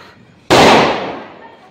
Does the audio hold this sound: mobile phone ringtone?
no